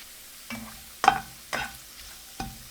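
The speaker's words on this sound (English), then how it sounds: "Flip the ginger slices and cook them for another 3 minutes." Ginger slices frying in a pan, with a soft sizzle broken by four or five short scraping stirs and flips at an even pace, close and fairly quiet with no talking.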